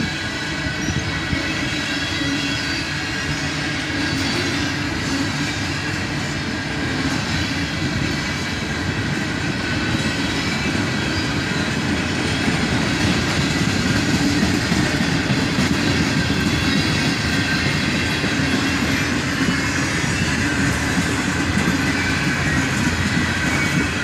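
A long military freight train led by KCS locomotives rolls steadily past close by, its wheels clattering and squealing in a continuous loud wash of rail noise with no voices.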